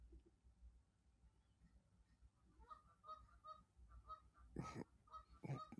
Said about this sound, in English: Where is that chicken noise coming from?